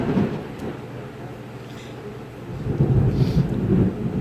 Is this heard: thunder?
yes